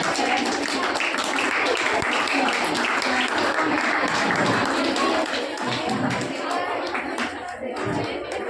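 An audience at a Children's Day school event applauds loudly, with dense clapping that keeps up steadily and fades slightly toward the end, with some crowd noise mixed in.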